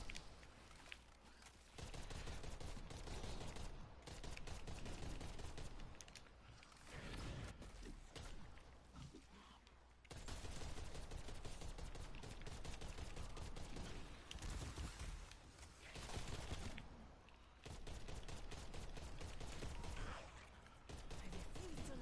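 DMR gunfire in the video game Onslaught comes in dense bursts of sharp shots, with loud stretches of firing separated by brief lulls.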